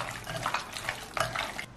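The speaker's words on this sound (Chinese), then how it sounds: "然后加适量清水清洗干净" Fish slices for sauerkraut fish are rinsed in a kitchen under running water, with close splashing and trickling in short, uneven surges. No voices are heard.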